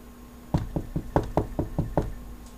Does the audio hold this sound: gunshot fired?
no